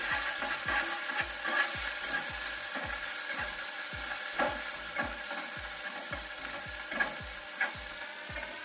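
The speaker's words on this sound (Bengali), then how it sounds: "তেলটা গরম হয়ে গেছে, দিয়ে দিচ্ছি ধনিয়া পাতা। ধনিয়া পাতাগুলো একটু ভেজে নিচ্ছি।" Coriander leaves frying in hot oil, a steady loud sizzle with regular stirring scrapes ticking through it, close and continuous with no voices.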